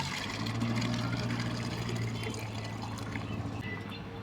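Water pours steadily from a coin-operated water dispenser, a continuous splashing stream with a low hum underneath, close by and fairly even throughout.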